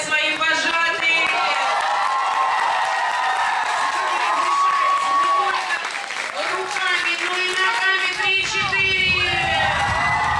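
An audience at a children's camp concert for counselors at Orbita claps steadily and cheers throughout, loud and dense. Excited young voices shout and whoop over the applause.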